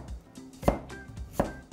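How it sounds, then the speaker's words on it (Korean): A kitchen knife cutting radish into thin julienne strips on a cutting board, a few separate soft chops with quiet pauses between them, close and faint. "최대한 얇게 채 썰어 주시면 돼요"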